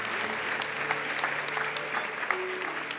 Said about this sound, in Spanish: te damos un buen aplauso a ti con todo nuestro corazón.